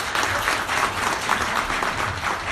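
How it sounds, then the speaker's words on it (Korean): Audience applause after a lecture on basic income at Pangyo Techno Valley: dense, steady clapping from a crowd, fairly close and even in loudness throughout, with no talking over it. "다시 한번 큰 박수 부탁드리겠습니다."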